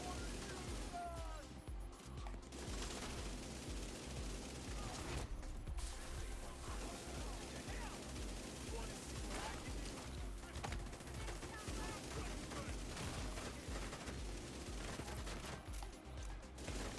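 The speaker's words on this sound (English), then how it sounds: "Just keep shooting. It's my strategy." Rapid rifle fire from the video game The Division 2 crackles in sustained bursts, dense and continuous, with mechanical clicks and clatter throughout and brief lulls between volleys.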